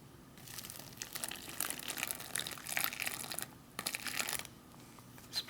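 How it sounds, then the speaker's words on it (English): Hot water pours and trickles into a Canadian military meal pack pouch with crinkly plastic rustling, a short pause, then more pouring and crinkling close by. "And add some hot water to the first line."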